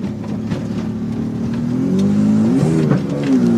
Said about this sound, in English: Shifting through the gears.